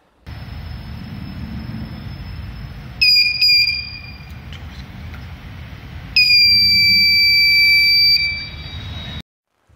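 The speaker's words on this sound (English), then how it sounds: "it will make a long buzz of 2 seconds" IoT device buzzer, sounding a short high double beep and then a sustained tone of about two seconds, loud and close over a steady low hum.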